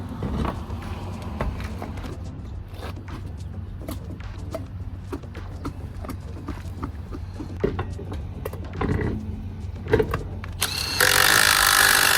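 Hand tools and sockets work on a monster truck wheel during a tire change in a Monster Jam setting, with steady clanking, ratcheting and metallic clicks close by and a harsher burst of noise near the end.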